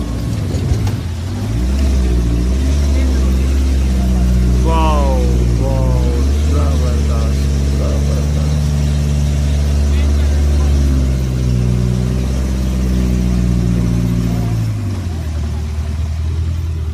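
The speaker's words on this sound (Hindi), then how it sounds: "यहाँ से हम लोग ऊपर चढ़ेंगे, आप देखिए कैसे हमारी गाड़ी चलेगी" A car engine hums steadily at low pitch while the vehicle climbs a hilly road toward Abbottabad, its drone rising and shifting over a long stretch, with a voice speaking briefly over it partway through.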